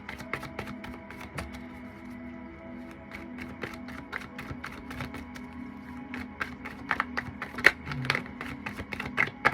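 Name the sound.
shuffling a deck of cards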